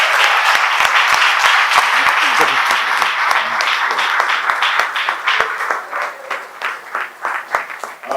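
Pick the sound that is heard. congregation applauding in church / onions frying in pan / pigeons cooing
congregation applauding in church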